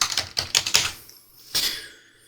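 Someone types on a computer keyboard: a quick run of about five close, crisp keystrokes, a short pause, then one more firm key press.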